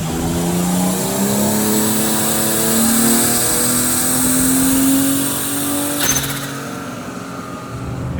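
A turbocharged BMW E36 323 engine revs on a dyno, its loud, close pitch climbing steadily toward 7000 rpm, then cutting off with a sharp pop before settling to a lower idle.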